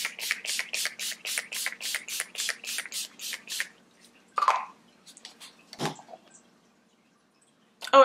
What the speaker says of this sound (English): I'm just going to finish it off with some Urban Decay De-Slick Setting Spray